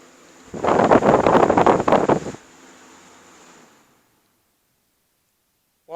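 An Air King box fan fitted with Wind Machine blades roars loudly with a rushing airflow for about two seconds, then drops to a faint hum that fades toward silence.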